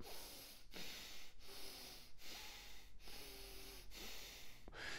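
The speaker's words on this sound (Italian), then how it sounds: "È sufficiente che tu respiri dal naso mantenendo le guance gonfie" Nasal breathing with the cheeks puffed full of air, as in a freediving mouthfill drill: a close, quiet series of hissing breaths through the nose, about one every two-thirds of a second, with brief pauses between.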